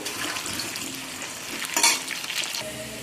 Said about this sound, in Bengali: এখানে আমি প্রথমে আলুগুলোকে ভালো করে একটু ভেজে নেব।